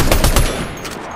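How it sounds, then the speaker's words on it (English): Rapid automatic weapon fire in Fortnite, several loud close shots in quick succession that then trail off into a fading echo. "here's what she looks like with a rainbow wrap shooting a weapon"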